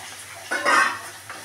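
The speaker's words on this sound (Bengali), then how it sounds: "মশলাটা আস্তে আস্তে কষাচ্ছি" Spoon stirring masala in a pan as chicken stock goes in, soft scraping and a brief swell of sizzling frying noise in the middle, fairly quiet and close, with no voices.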